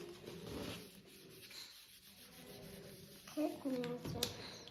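A pencil eraser rubs out a written number on paper during a children's math lesson, giving short scratchy strokes with pauses, heard beneath a child and an adult talking.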